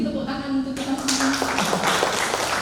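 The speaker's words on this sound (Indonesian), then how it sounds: "Mungkin tepuk tangan untuk kita semua." Applause breaks out across a crowd at a university graduation ceremony, a dense steady clapping that swells after a speaker's voice and continues loudly through to the end.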